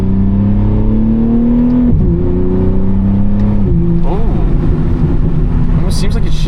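BMW G80 M3 engine in third gear revs and dips as the driver drops to second, the steady drone surging with a quick blip around the shift and rising again, loud and close from inside the cabin.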